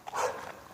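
A mother street dog, just fed and with her puppies nearby, gives a single short bark close by with no talking over it.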